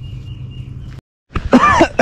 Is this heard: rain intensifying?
no